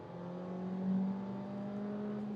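A new 2026 VW T-Roc accelerates uphill in sport mode, its engine giving a steady droning hum with clear tonal harmonics that swells briefly and holds fairly constant as the car gathers speed.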